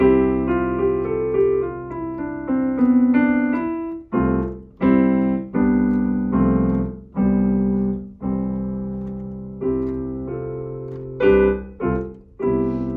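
Keyboard plays a bright major-sounding sequence of chords and notes in the Ionian mode, phrases separated by short pauses, close and clear with no talking.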